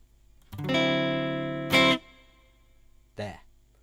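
A sustained electric guitar chord rings through an amp with a long, reverberant decay, broken by a brief muted strum and a later short pluck.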